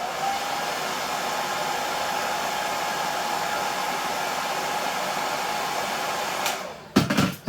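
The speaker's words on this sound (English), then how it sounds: "blast just with a hairdryer" A hairdryer blows with a constant loud whooshing roar for several seconds, then cuts off with a few clunks at the end.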